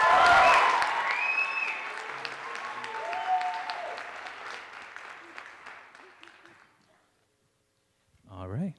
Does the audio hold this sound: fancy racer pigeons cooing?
no